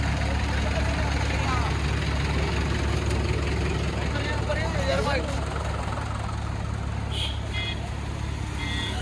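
A modified tractor engine idles steadily at close range with a deep, continuous drone, while people talk over it throughout.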